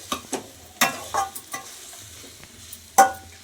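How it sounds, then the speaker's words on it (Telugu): Curry leaves and masala spices fry in a pan for a Nellore-style dish, with scattered crackles and stirring scrapes, a few sharper pops standing out over a quiet sizzle. "మనం మసాలాలన్నీ వేసాం కదా, అవి ఒక 2-3 నిమిషాలు వేగితే బాగా పట్టుకుంటాయండి"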